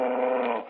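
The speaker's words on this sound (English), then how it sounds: "Balak is a good dog, yet he frightens people sometimes." A dog in an old time radio drama gives a short, throaty growl, close and fairly loud, lasting under a second on its own.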